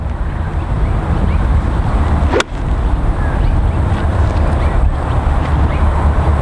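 Strong wind buffets the microphone on a golf course, a loud continuous roaring rumble with one brief sharp knock partway through and no clear speech.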